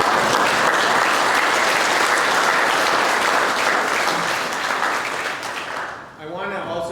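A crowd at a senior living community's garden dedication ceremony gives a dense, loud, sustained round of applause that thins and fades near the end, and a voice begins speaking as it dies away.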